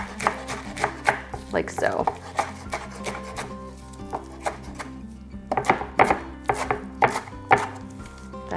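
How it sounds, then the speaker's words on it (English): A knife chops through a bundle of kale on a board, cutting it into thin ribbons with quick, close, irregular strokes in short bursts, and a voice speaks briefly. "So I sort of just bundle the kale up like this, and then just ribbon it."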